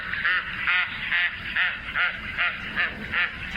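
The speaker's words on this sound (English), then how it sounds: "A flight call there from this large white wading bird with long bright red legs, black-tipped wings, a long down-curved reddish bill" Loud, nasal honking calls from a white ibis, a large white wading bird with a long down-curved reddish bill, repeated about eight times in a steady rhythm, close and clear with no voices.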